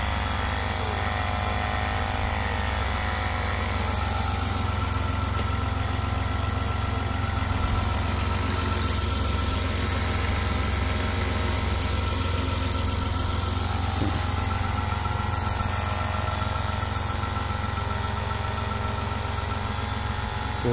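A car engine idles steadily after a start during battery trouble, a continuous low rumble with a faint high whine, close and unbroken for the whole stretch.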